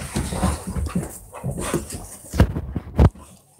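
A restless dog whimpers and huffs up close indoors, with a rapid run of soft whines and snuffles followed by two sharper, louder yelps or huffs near the end.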